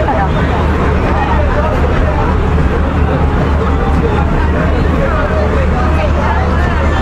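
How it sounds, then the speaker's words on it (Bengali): A passenger launch ferry arrives near Howrah Bridge, its steady engine rumble and water wash filling the scene beneath continuous crowd chatter and voices. "এই লঞ্চ, আধা ঘন্টা পর লঞ্চ এলো"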